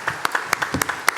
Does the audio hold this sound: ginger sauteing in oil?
no